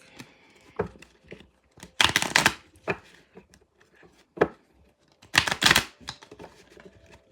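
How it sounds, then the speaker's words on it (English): Two bursts of crisp split shuffling of tarot cards, each a quick riffling flurry, separated by scattered taps and light handling clicks; close by with no talking. "I'm going to just give this a little split shuffle real quick."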